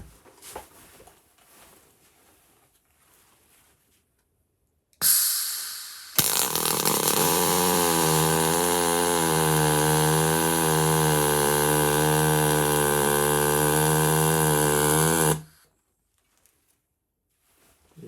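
MIG pulse welding on 2.5 mm aluminium with a SPIKA welding machine: a steady, loud buzzing arc held for about nine seconds after a short initial burst, with quiet gaps before and after.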